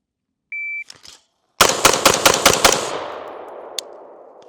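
A Smith and Wesson M&P 15 SBR 5.56 rifle fired unsuppressed outdoors: after a short beep, a fast burst of about six loud, sharp shots rings out close by, with a trailing echo and one later faint crack.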